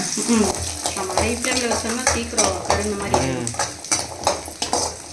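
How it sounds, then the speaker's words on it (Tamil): Small onions, garlic and ginger sauté in hot oil on a low flame, a soft sizzle under frequent spoon scrapes and clinks against the pan, while someone talks throughout. "இப்போ எண்ணெய் சூடாச்சுன்னா இந்த சின்ன வெங்காயம் பூண்டு இஞ்சியெல்லாம் போட்டுக்கலாம் நல்லா சிம்லேயே வச்சு வணக்கிங்க"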